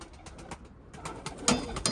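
Soft coos of tumbler pigeons and faint bird calls repeat over a low background hum, with a slightly louder burst near the end; no one speaks.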